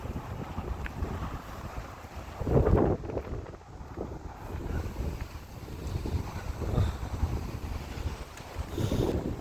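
Strong wind blows through a village in Portugal, buffeting the microphone in rumbling gusts that swell and fade, loudest in a couple of bursts, with no one talking.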